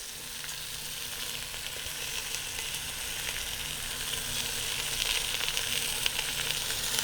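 Onions hit a hot pan beside a browned beef roast and sizzle in a dense, steady hiss that swells slightly toward the end, close and continuous with no talking.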